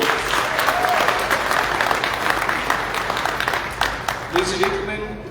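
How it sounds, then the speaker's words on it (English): A hall audience gives a warm round of applause after a keynote address by Sierra Leone's First Lady, steady crowd clapping with faint voices mixed in beneath it. "Let's please give her another warm round of applause."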